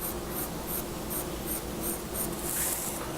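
Soft pencil drawing on paper for a holly-in-vase still life, giving a close, quiet scratchy rasp in short repeated strokes at a steady rhythm, with no voices.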